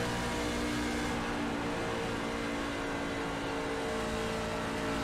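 Race truck engine heard from on board at Atlanta Motor Speedway in a sim racing game: a steady, loud, continuous engine drone and whir with no breaks and no talk.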